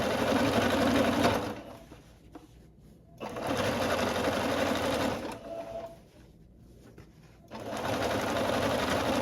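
An electric sewing machine stitching a skirt seam runs in three loud, steady whirring bursts separated by short quiet pauses, close up with no talk.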